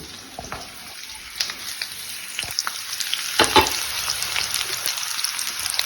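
Red capsicum frying in a pan for infused chicken, a steady close sizzle with scattered crackles and short stirring scrapes that swell louder near the middle.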